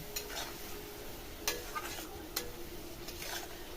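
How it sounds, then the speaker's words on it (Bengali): Potato and bean fish curry ingredients stirred in a pan with a little water, soft steady sizzle under intermittent scraping and tapping of a spoon against the pan, fairly quiet and close. "ভালো মতো নাড়িয়ে চাড়িয়ে কষিয়ে নেব এগুলো"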